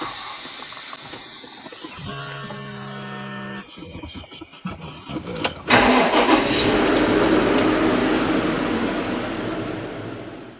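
A farm machine used to prepare fields and sow wheat cranks with a few uneven bursts, catches and settles into a loud, steady engine roar with hiss as it warms up nearby.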